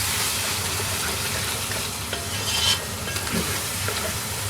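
Afghani masala of whole coriander seeds and black peppercorns stirred into a karahi, giving a steady close sizzle and scraping texture with a brief brighter hiss midway.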